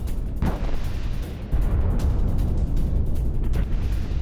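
Booming bombardment explosions in war news footage, loud dull blasts with rumbling aftermath, one sharper burst near the start and another toward the end.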